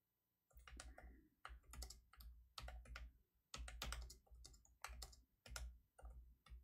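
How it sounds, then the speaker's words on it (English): Rapid typing on a computer keyboard, close and crisp, with bursts of key clicks separated by short pauses and no talking over it. "oops, I'm typing in the wrong thing."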